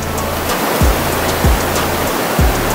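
Flowing water dammed into an improvised swimming pool at a tollgate rushes steadily and loudly, with a few dull low thumps breaking through the constant wash.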